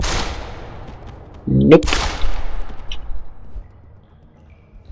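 Gunfire in Deus Ex: Human Revolution, a sharp burst of shots followed by a second loud report, with reverberant tails fading into quiet; a voice speaks briefly nearby.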